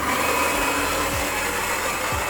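A coffee machine runs with a steady, close mechanical hum and whir while brewing coffee, a continuous drone with faint low thumps and no talking.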